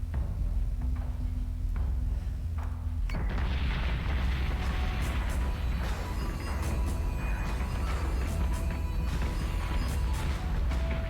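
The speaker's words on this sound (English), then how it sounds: "That Talon's got a lot of missiles arcing towards it." Missiles striking a ship in the space combat game BSG Deadlock, a low rumbling hum broken by a heavy boom and a spread of scattered crackling impacts and debris bursts, moderately loud, with no speech.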